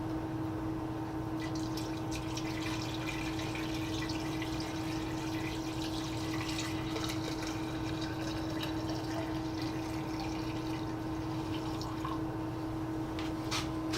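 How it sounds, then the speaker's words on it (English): Vinegar poured into a column made of 2-inch pipe holding a rusty 2-inch auger bit, a steady continuous stream of trickling liquid that runs unbroken for the whole stretch under a faint hum. "Now all I have to do is pour the vinegar in."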